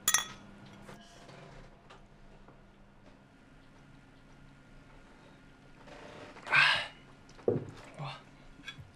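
Glasses clink together in a celebratory toast over a home-cooked meal, a bright near chime followed by a second clink and faint tableware rattles, with people talking around it.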